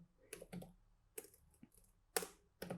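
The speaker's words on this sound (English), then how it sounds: "So we're going to type in systemctl" Keys clatter on a computer keyboard as a systemctl command is typed, a few quick clusters of taps separated by short gaps, close and quiet.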